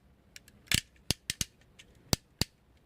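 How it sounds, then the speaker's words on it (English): The joints of a transforming robot toy figure are rotated, giving several crisp plastic clicks and ratcheting snaps close by, some in quick pairs, with no talking. "Nice clickety clackety joint."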